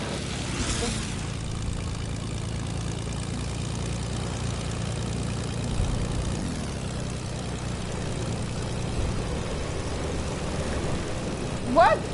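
A steady, droning propeller airplane engine in a video game hums continuously at a constant level throughout, with a faint brief blip near the end and no speech.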